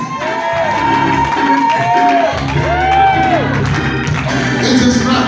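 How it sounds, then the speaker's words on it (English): A church congregation at St Judah claps and shouts through a fervent sermon, with loud, continuous crowd noise, whoops and sung or chanted voices that rise and fall. "Y'all clap it good"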